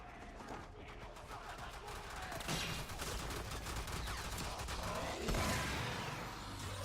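Oberon's Smite ability in Warframe strikes a group of Butchers and a Heavy Gunner, producing a dense, continuous crackle of rapid gunfire-like impacts at low volume, with a voice talking over it.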